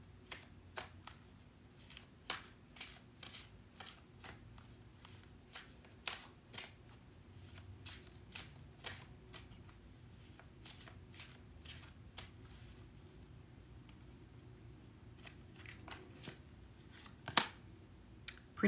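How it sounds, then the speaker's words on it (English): A deck of tarot cards is shuffled close by, with a quiet stream of soft riffles and sharper flicks and snaps repeating irregularly over a low room hum. "We pulled a lot of cards today."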